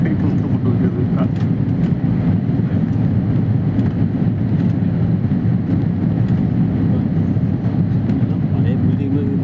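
Airplane landing in Mumbai, heard from inside the cabin as a loud, steady engine and airflow roar, with people talking over it throughout.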